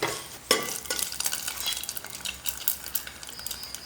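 A spoon stirs fried mustard seed tempering with cumin, red chillies and curry leaves into appam batter, giving soft wet scraping and light clinks after a sharp initial knock.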